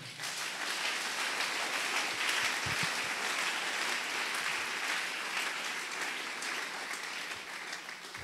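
A church congregation applauds in a continuous, even patter of many hands, fairly soft and a little distant.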